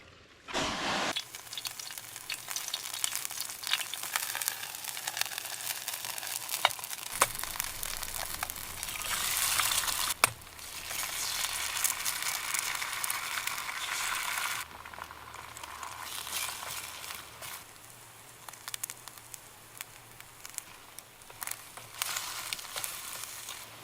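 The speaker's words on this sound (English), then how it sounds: "For dinner tonight, I'm having a few sauteed scallions with a couple eggs, salt and pepper, and some hot sauce." Scallions and eggs sautéing in a pan at a cold lakeside canoe campsite make a steady crackling sizzle throughout, with scraping and stirring, a few sharp knocks and shifts in loudness as the food is moved.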